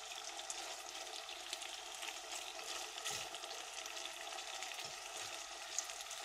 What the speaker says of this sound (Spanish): que se sellen del otro lado los trocitos de pollo